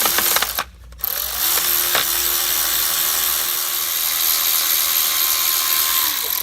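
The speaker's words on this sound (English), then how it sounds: "Frickin' Milwaukee ratchet is such a time saver." A Milwaukee cordless electric ratchet spins out 8mm bolts around the oil pan of a Ford 3.5L or 3.7L Duratec V6, giving a loud close whirring drone with brief pauses between bolts.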